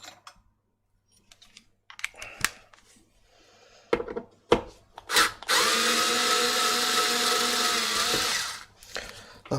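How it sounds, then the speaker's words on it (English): A power drill works on an Xbox One S console, preceded by clicks and handling of screws and plastic, then a loud steady whir running for several seconds before winding down. "Grab my drill for this"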